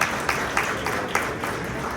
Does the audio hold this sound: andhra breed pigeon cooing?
no